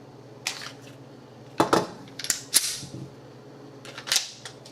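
A Smith & Wesson M&P Shield handgun has its slide worked open to check the chamber, giving several sharp, close metallic clicks and clacks spaced unevenly across a few quiet seconds.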